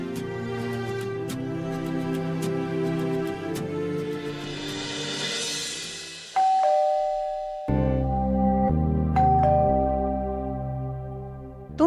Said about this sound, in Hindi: तुम लोगों को घंटी सुनाई नहीं दे रही है?